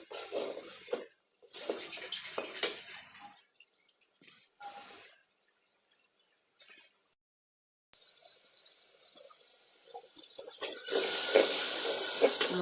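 Onion and ginger spice paste (masala) being stirred and fried in a pan for a broiler chicken curry: scattered scraping and stirring noises at first, then a loud, steady sizzling hiss that swells near the end.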